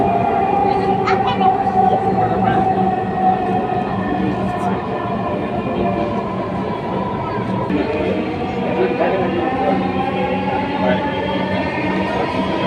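A Dhaka metro train hums and rumbles steadily throughout, loud and continuous, with a recorded announcement voice speaking over the running noise.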